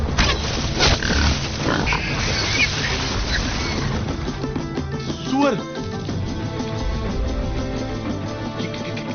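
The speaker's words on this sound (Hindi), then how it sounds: "सुअर" A large pig, compared in size to a horse, grunting and squealing in a dramatic Bahubali 3 scene, loud rough calls mixed with music and other commotion, with some talking.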